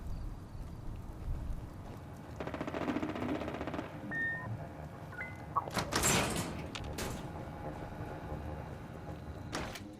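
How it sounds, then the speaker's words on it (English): A door in Fallout 76 slides and clunks shut on its own, a mechanical rumble followed by a louder bang and a couple of faint knocks, with no talking. "that door back there will auto close"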